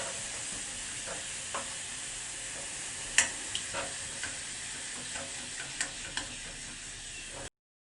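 Sugar and water heating in a pan over a gas flame give a soft, steady sizzling hiss, with scattered spoon clicks and scrapes as the mixture is stirred, close by and without any voices.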